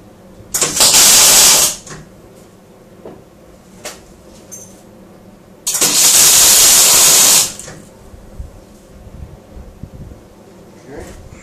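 Two tack welds are made on parts for a BMW EV conversion, each a sharp, loud crackling hiss lasting a second or two, separated by a pause filled with quiet shop clatter.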